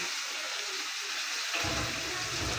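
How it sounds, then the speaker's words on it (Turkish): Running tap water splashes over hands being washed at a sink, a steady close gush that swells louder and fuller partway through and continues without talk. "Ben şimdi elimi tekrar yıkayayım"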